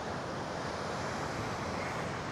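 Ocean waves of 3 to 4 foot surf heard from a pier make a steady broadband wash with no distinct breaks, mixed with wind noise and no talk.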